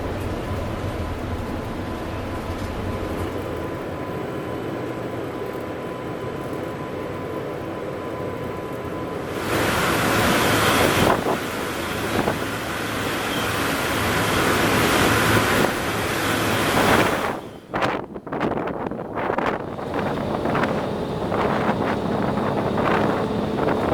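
Steady wind and water rush aboard a ferry crossing toward San Francisco, loud and constant with heavier gusty buffeting in the middle and brief dropouts near the end.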